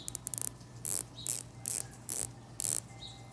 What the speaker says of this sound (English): 120 click and sounds pretty good